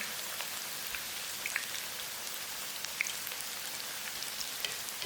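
Chicken pakora frying in oil over a medium flame, a soft, even crackling patter like light rain, steady and fairly quiet with occasional louder pops and no talking.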